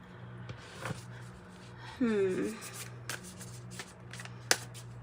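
A tarot deck is shuffled by hand, close and crisp, with a riffle-like burst in the middle and scattered card taps and slides around it, under quiet talk.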